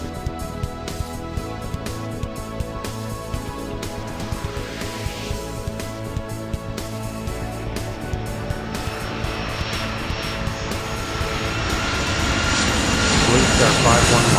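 Aircraft engines spool up for a takeoff roll on the runway in the airport game Airport Madness 3, a steady engine drone that swells and rises in pitch toward the end, with radio-style talk layered over it.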